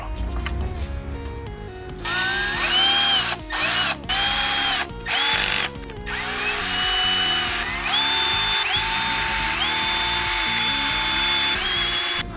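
A power tool whirs in several short bursts and then longer runs while tightening the ignition coil bolts on a Renault Mégane IV 1.3 TCe engine, close and fairly loud with brief pauses between pulls.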